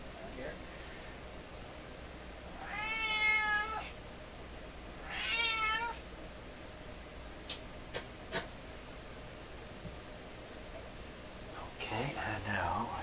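A cat cries with two drawn-out meows close by, then quieter clicks and rustling near a Canadian General Electric KL-96 stereo; a low voice briefly speaks at the end.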